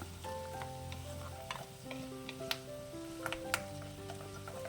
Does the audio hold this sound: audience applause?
no